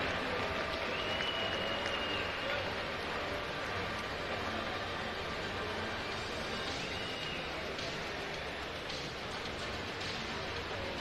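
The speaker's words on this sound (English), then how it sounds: "a round of applause for the top three finishers in the women's 400 medley relay" Applause rolls through a swimming venue for the top three finishers of a women's 400 medley relay at a winter junior championship, a steady wash of distant clapping from the crowd that carries on for the whole stretch.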